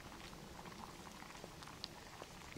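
A pot of cornmeal soup with jerky simmers at a steady boil, giving a faint, continuous bubbling patter with a few small pops, heard up close and alone without any talk.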